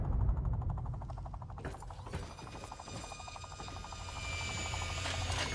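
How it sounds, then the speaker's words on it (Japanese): Helicopter in Fallout 3, heard as a steady rhythmic rotor chop with mechanical whine building over several seconds, moderately faint, no speech. "これが向かいのヘリです"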